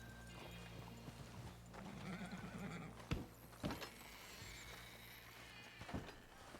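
A horse whinnies and stamps at a hitching post in the Red Dead Redemption 2 video game, faint and distant, with a few soft hoof knocks and no talking.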